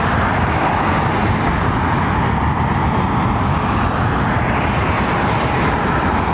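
An Airbus A350 airliner at London Heathrow Airport produces a loud, continuous broadband jet roar that holds steady for several seconds, with a slight swell and fade in the engine tone.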